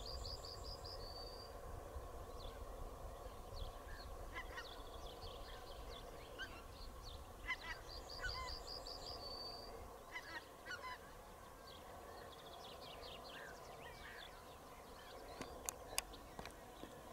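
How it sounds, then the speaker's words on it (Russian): Geese honking as they fly over the flooded Moksha River in spring, repeated bursts of distant nasal calls drifting over a steady outdoor background hiss, faint and fairly far off, with a few sharp clicks near the end. "Гуси летят."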